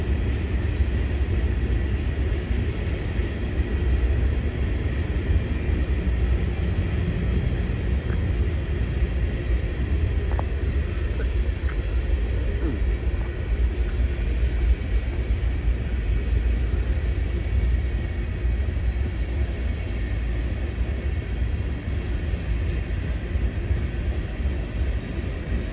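Westbound manifest freight train passing, led by a Tier 4 Devo and an ES44AC diesel with coil cars, a steady heavy rumble sustained for the whole span with no lull.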